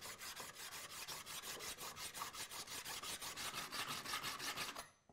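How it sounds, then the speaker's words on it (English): A hand file rasps the casting skin off a cast clock wheel blank in a fast, even run of about thirty strokes close up, stopping abruptly at the end. "You remove the skin of the blank by filing it off or scraping it off."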